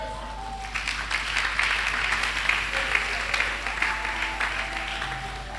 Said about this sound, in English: Did you clap your hand?